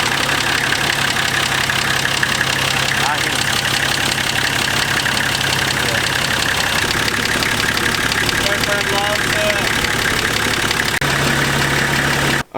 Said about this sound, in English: we just ran the car for a couple minutes